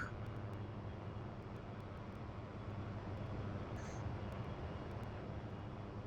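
A single-engine A-29B turboprop rolls down a runway on its takeoff run in a military flight game, a steady, faint engine drone holding constant throughout.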